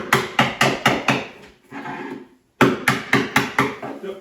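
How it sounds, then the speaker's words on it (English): A hammer drives a chisel into the plaster corner of an old kitchen: about six rapid, sharp, close strikes, a short pause with scraping, then another quick burst of evenly spaced blows, with no talking. "So to start with, I'm going to start with my chisel"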